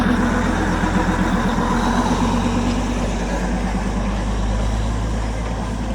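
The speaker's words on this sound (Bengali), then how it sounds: "আর এই হচ্ছে একটা ডিজেল ইঞ্জিন" A Darjeeling Himalayan Railway diesel locomotive rumbling nearby, a loud continuous low engine drone with throbbing idle pulses and broad noise.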